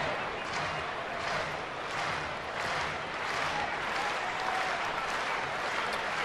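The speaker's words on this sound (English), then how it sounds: "Crowd clapping for that first out, and it is a strikeout." A baseball stadium crowd claps steadily for a strikeout, a broad continuous wash of applause heard from a distance with no clear voices over it.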